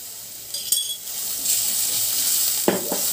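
A small spoonful of ground garlic and black cumin paste frying in a little oil over low heat hisses steadily, with a metallic clink near the start and two spoon scrapes near the end.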